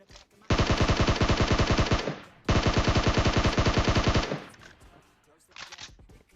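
Two long bursts of rapid automatic gunfire in PUBG Mobile, loud and close, followed by a shorter burst after a brief pause.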